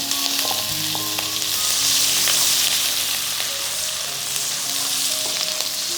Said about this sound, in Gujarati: મીઠો લીમડો કકડાવી અને ત્યારબાદ લીલા મરચાં અને સાથે કોથમીરનું છીણ.